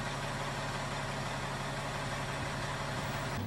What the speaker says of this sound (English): As the engine lays out the hose,